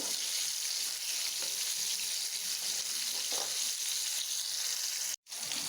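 Flour dough pieces frying in hot oil, a steady close hiss with faint crackles that runs without a break, cut by a brief dropout near the end.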